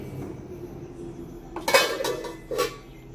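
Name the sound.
covering a pot of ginger tea with a lid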